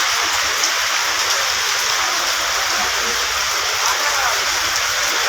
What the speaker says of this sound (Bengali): গাবতলীতে এখন ব্যাপক বৃষ্টি হচ্ছে, বৃষ্টি থামতেছে না